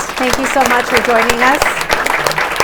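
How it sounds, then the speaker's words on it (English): An audience applauds panelists at a summit on Hispanic wealth. Steady clapping runs beneath a voice speaking over it. "I want to give a round of applause to our amazing panelists."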